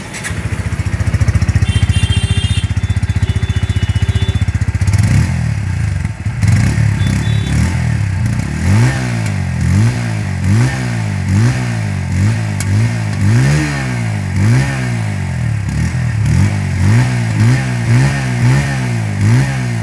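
A 2024 Bajaj Pulsar N150 motorcycle with an underbelly exhaust idles steadily up close, then is blipped through a long run of sharp, evenly spaced throttle revs that rise and fall one after another.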